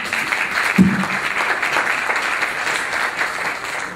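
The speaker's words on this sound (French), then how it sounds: "Et on vous applaudit." An audience applauds for a speaker at a business awards event, a steady dense patter of many hands clapping throughout, moderately loud with no voices over it.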